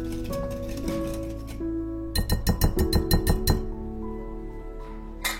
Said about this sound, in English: Stir this mixture with a whisk